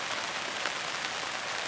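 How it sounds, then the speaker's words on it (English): Steady rain falling outside, an even close hiss of drops with no pauses or other sounds. "And now I'm just sitting here while it rains"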